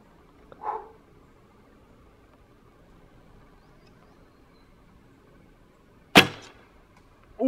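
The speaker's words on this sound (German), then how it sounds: "Und da probiere ich jetzt zwei Pfeile und schauen wir mal." Arrows loosed from a bow on an outdoor archery course, with two arrows shot at a target. A soft thump comes early, then a long quiet pause, then a sharp, loud crack of impact, and a further hit starts at the very end.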